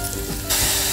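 Garam masala goes into hot oil for a tempering in a pan, a close steady sizzle that swells suddenly louder and brighter halfway through.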